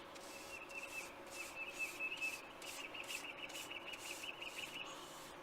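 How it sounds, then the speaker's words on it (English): A paintbrush strokes up and down across a shop door, making a quiet, continuous rubbing swish with rhythmic pulses of stroke after stroke, close but faint. "go up and down with your brush"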